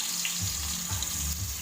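Sliced onions fry in hot oil for a Thalassery chicken dum biryani, giving a steady, close sizzling hiss with faint bubbling and no talk.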